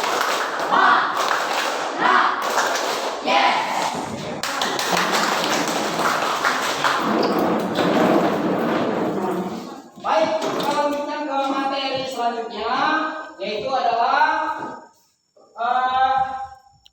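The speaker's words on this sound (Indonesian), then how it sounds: "kita tepuk semangat" A standing classroom of students performs a rhythmic 'tepuk semangat' clapping routine, sustained patterned claps and taps with group chanting, followed by voices talking.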